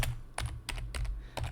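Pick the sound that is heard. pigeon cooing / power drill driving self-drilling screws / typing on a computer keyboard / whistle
typing on a computer keyboard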